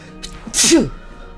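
A single short, sharp sneeze, heard up close and loud, rising quickly and then fading into a quiet background.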